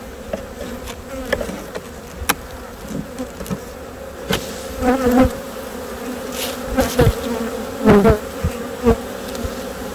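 Honey bees hum steadily around open hive frames during a hive inspection, a continuous close buzz. Occasional knocks and wooden clicks come from the frames being handled.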